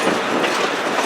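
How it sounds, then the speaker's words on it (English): A locomotive-hauled excursion train on the Great Smoky Mountains Railroad rolls through a turn, giving a steady, loud rumble with rail clatter close by and no voices. "I finally got to see the locomotive in at least one turn."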